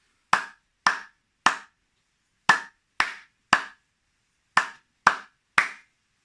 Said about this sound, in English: giving a huge clap to Hansi Flick and his guys